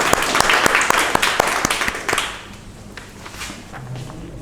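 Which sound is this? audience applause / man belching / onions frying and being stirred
audience applause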